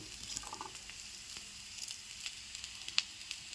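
Garlic cloves sizzle in hot oil with browned onion, a close steady crackle with scattered pops and one sharper spit, and no voices.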